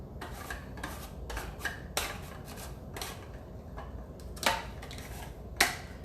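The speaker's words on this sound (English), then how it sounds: "use the mandolin, and just slice it all up" Zucchini is sliced on a mandoline, giving a series of crisp rasping strokes at an irregular pace, close and moderately loud, with a few sharper cutting clicks standing out.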